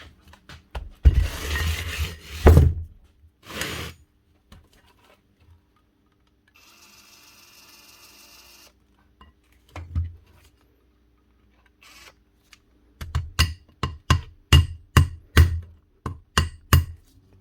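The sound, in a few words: hammer tapping metal spindle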